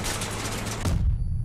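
Rapid automatic gunfire from armed vehicles in the combat game Crossout, a dense fusillade of shots that cuts off abruptly, leaving a low rumble.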